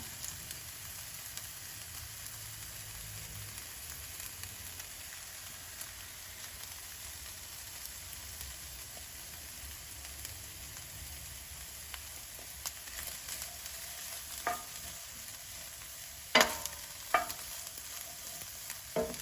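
Garlic and ground beef fry in a hot skillet over a lowered flame, giving a faint, steady sizzle with a few light clicks and scrapes toward the end.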